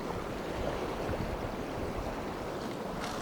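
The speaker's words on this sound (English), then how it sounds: "That might be the water from the river" High river water in West Virginia, swollen after heavy rain, pouring past in a dense, continuous broadband rush that stays steady and loud throughout with no voices over it.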